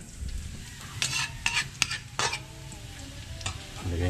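Turtle meat being sautéed in a pan during a brownout, a low frying sizzle under several sharp scraping stirs of a spatula against the pan.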